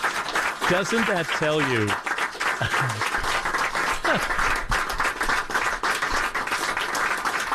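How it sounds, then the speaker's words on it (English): Assembled current and former staff of WCBS 880 AM radio break into a sustained round of applause in a crowded room, with cheers at first and a voice speaking over the clapping. "A little round of applause for all of us."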